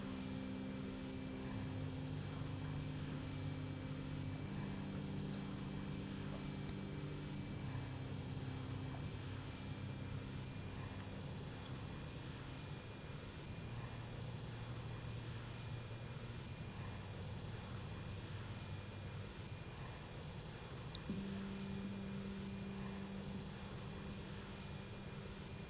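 A jet airplane's engine drones steadily in the Airplane Flight Simulator video game on Nintendo Switch, a low, even hum with layered tonal whines lasting throughout at a quiet level.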